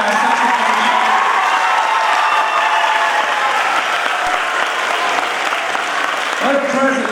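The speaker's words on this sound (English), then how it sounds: "Can we give Alyssa a round of applause there?" A large audience at a school assembly at Buckley Country Day School claps loudly and continuously in a dense, even wash, with a few cheers mixed in and a voice coming in as it fades.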